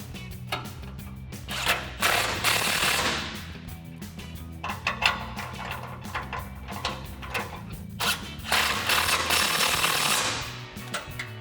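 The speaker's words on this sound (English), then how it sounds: "We'll tighten down these two bolts first." A 16mm socket tightens bolts on a modular front bumper of a 2019-2023 RAM 1500, heard as close rapid ratcheting bursts and metallic clicks in several runs with short pauses between.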